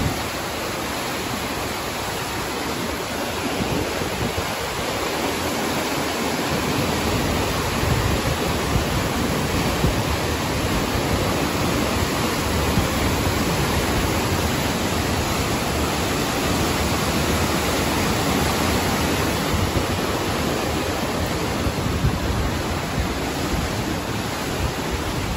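The flooding Inn river in Innsbruck rushes in a loud, continuous roar of turbulent water that fills the whole stretch without pause and without any talking.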